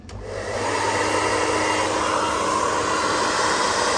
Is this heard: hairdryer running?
yes